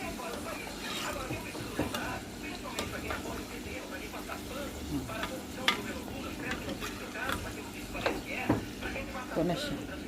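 Brazilian pastel fries in a pan, a light sizzle running throughout, broken by clicks and scrapes of stirring and a person talking now and then.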